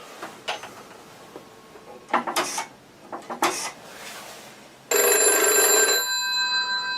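A telephone rings after a number is dialled: soft clicks and handling noises first, then a loud, bright, sustained electric bell ring close by near the end.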